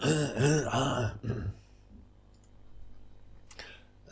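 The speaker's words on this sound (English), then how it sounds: "Clear my throat." A man clears his throat up close with a few rough, clicking rasps, followed by quiet room tone and a soft click near the end.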